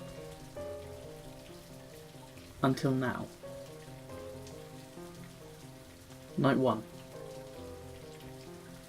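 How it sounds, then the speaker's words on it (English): Steady rain patters on a surface at night as a constant soft hiss, broken by two brief louder bursts of voice partway through. "The rain had come in quite quickly this time round."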